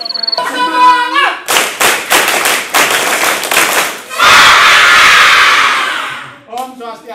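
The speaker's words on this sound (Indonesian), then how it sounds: "sekali lagi tepuk semangat" An audience at a Balinese talk session performs a rhythmic spirit clap, several crisp, patterned bursts in unison, followed by a loud collective shout and then a voice speaking.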